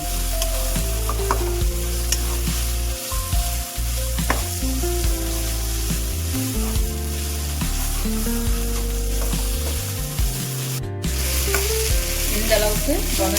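Ginger and garlic sauté in a pan for ghee rice, a loud steady sizzle close by with scraping stirs and small pops running throughout, no voices.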